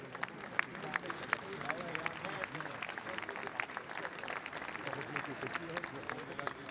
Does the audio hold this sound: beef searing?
no